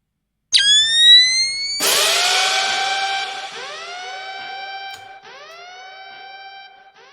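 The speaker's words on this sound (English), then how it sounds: "And every 8 bars there's also the Kill Bill siren." A Kill Bill siren sample rises and wails over and over in a phonk beat, starting with a sharp high tone and then repeating in pulsing swoops that fade, loud and alone.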